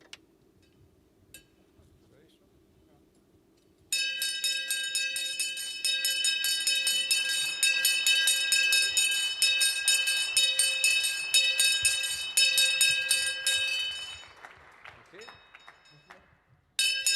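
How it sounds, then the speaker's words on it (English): A traditional stock exchange bell rung for Porsche's listing on the Frankfurt DAX, a loud continuous metallic ringing lasting about ten seconds that abruptly cuts off, after a quiet room with faint clicks. "the traditional ringing of the bell"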